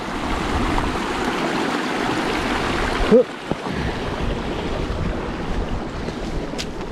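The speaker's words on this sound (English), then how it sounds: "More water crossing." Rushing water of a stream crossing on a hill path up Kinder Scout from Hayfield via William Clough, a steady broadband flow mixed with wind buffeting the microphone, with a few close splashy knocks midway.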